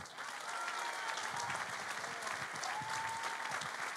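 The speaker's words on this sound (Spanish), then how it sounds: "Un fuerte aplauso para el último gran senador electo de la isla de Tenerife" Crowd applause at a Coalición Canaria candidates' presentation for the general elections, a steady, full wash of clapping heard at a distance, even in level throughout, with faint voices mixed in.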